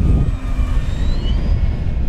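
An FMS F7F Tigercat RC model airplane flies overhead, its engines whining and rising in pitch as power comes up, mixed with outdoor wind noise and no talking.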